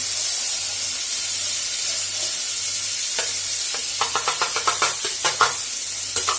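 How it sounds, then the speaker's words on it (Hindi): Vegetables dropped into hot tempering oil in a home kitchen, a steady loud close sizzle with a rhythmic run of stirring scrapes and clatters in the last few seconds. "इसमें सारी सब्जियां गिरा देंगे"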